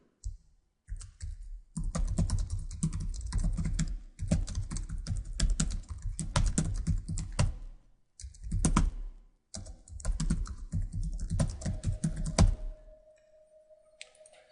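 Typing on a computer keyboard, close and clear, in bursts of rapid key clicks separated by short pauses, ending with a few isolated key presses.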